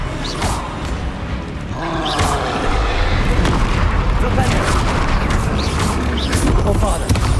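Spell blasts and booming magical impacts crackle loudly and continuously in a Hogwarts Legacy duel, layered with dense combat effects and a voice calling out between hits.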